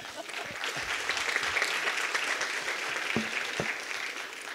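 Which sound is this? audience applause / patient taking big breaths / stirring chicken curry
audience applause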